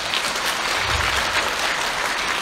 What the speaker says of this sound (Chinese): 我们大家一起为一心的105分鼓鼓掌